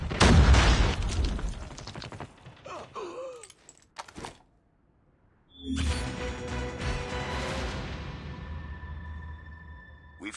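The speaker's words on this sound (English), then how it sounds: "Grenade out." A grenade blast in the Call of Duty Mobile multiplayer game, heard as a sudden loud boom that settles into a long, ringing rumble and fades slowly. Gasps and game sounds come before it, and a brief quiet gap precedes the explosion.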